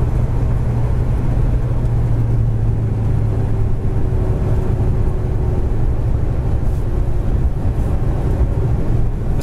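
A 1972 Chevy Chevelle restomod surging as the transmission kicks down, a loud low engine roar building and sustained with some wind buffeting.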